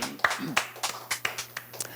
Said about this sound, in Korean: 모든 영광과 찬양의 박수를 올려드립니다